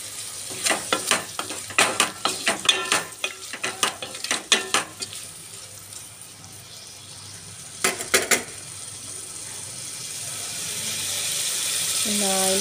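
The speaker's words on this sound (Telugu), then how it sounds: "ఇప్పుడు ఇలా మొత్తం కలిపేసి టమాటా ముక్కలు బాగా మెత్తబడే వరకు" A spoon stirs tomato pieces in a pot for pepper rasam. It scrapes and clinks against the pot in a quick run of strokes, then a brief pair, over a soft, rising sizzle.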